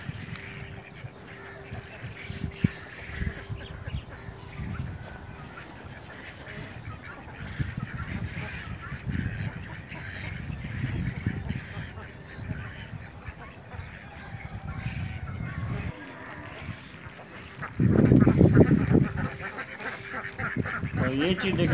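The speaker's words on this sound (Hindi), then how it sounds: "इन्होंने जो बतख फार्मिंग को भी थोड़ा इंट्रोड्यूस कराया है" Ducks on a farm near Karachi, kept with a small mud house and water, quack and honk repeatedly at close range, with a louder burst of calls near the end and voices talking over them.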